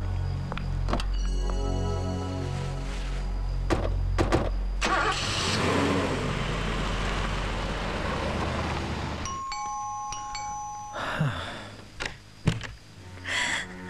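A car at night starts its engine with a low rumble, then revs and pulls away, followed by quieter stretches with a couple of tonal beeps and scattered bumps as the sound fades.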